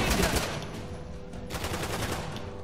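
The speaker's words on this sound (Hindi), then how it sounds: "और ऐसी कोई गोली चलाता अंधाधुन क्या?" Rapid automatic gunfire from the video game Uncharted: The Lost Legacy, a dense rattling burst that is loudest at the start and then continues steadily for a few seconds.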